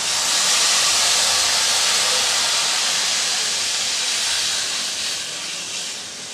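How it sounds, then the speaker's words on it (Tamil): Tamarind extract poured into a hot pan sizzles, a loud, steady hiss filling the whole stretch before easing slightly toward the end, with no talk. "இப்போ நம்ம புளி கரைச்சலை சேர்த்துடலாம்."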